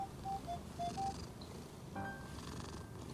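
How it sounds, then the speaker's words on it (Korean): Muji the cat purring softly and steadily at close range in a quiet room, with faint indoor background noise. "여러분 소리 들리시나요? 골골송."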